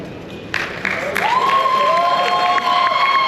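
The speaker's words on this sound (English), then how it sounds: "another round of applause for the entrepreneurs, guys" A crowd at an East Meets West entrepreneur event at the Sheraton Waikiki breaks into loud, sustained applause with some cheering. A few voices rise over the clapping.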